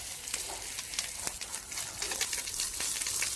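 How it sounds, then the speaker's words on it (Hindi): Water poured from a hose or pipe onto garlic plants in a dry, cracked farm field, a steady close hiss and splash with uneven gushing bursts and no voices. "तो अंशु ये पानी दबा रहा है लहसुन पे"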